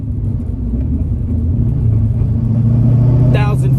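A Coyote-swapped 1993 Fox body Mustang LX roars loudly at close range on a quarter-mile drag strip, its deep engine rumble holding steady and rising slightly in pitch as it pulls through the gears.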